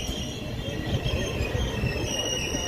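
Dwarka to Bhavnagar train pulling into Mova railway station, heard from on board as a steady, close rumble of wheels on rails with faint squealing.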